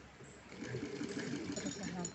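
A sewing machine runs in a steady, close hum while stitching a cotton fabric strip for a small deity outfit, with a soft voice over it.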